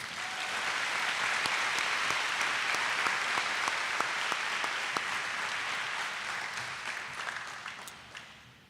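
Steady, sustained applause from an audience at an upper school awards ceremony, a dense wash of many hands clapping at moderate distance, fading slightly toward the end with a few sharp individual claps standing out.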